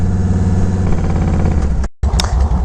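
A carbureted Yamaha Road Star 1700 Silverado touring motorcycle idles up close with a low, steady, pulsing engine thump that cuts out briefly for a moment before resuming.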